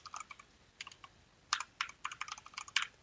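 Quiet, close typing on a computer keyboard, with uneven clusters of key clicks separated by short pauses, growing denser in the second half, and no speech.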